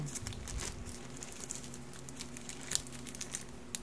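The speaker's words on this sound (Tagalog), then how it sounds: "let's open this parcel" Parcel packaging crinkles and rustles as it is opened, with soft scattered crackles and a few sharper tearing snaps over a faint background hum.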